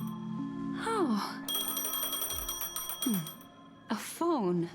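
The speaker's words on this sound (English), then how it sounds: "A phone. Wanna listen in?" In the Honkai Star Rail video game, a phone rings with a bright, rapid electronic trill lasting a couple of seconds, with voices and sweeping game sounds before and after.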